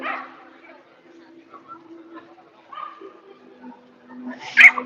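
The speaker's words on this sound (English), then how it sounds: "these dogs are getting excited, upset because this other dog just walked by." Excited dogs bark and whimper in short yips as another dog walks past, fairly faint and intermittent, with someone talking over them and a louder bark near the end.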